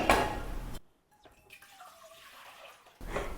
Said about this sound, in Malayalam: ഞാൻ ഇതാ സ്റ്റൗവിലേക്ക് ഒരു പാത്രം വെച്ച് കൊടുക്കുന്നുണ്ട് അതിലേക്ക് നമുക്ക് വെള്ളം ഒഴിച്ചു കൊടുക്കാം